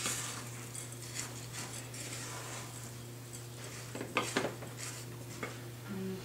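A utensil stirs ground flaxseed into vegan cookie batter in a bowl, giving soft, quiet scraping and a few light clinks against the side over a low steady hum.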